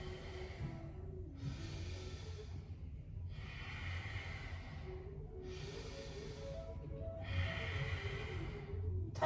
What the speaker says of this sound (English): Bit more fire breath. Strong breath through the nose.